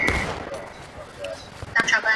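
Musket volley fire in the video game War of Rights during a large event battle, sharp overlapping shots in brief bursts, one near at the start and another cluster at the end, with shouted commands nearby.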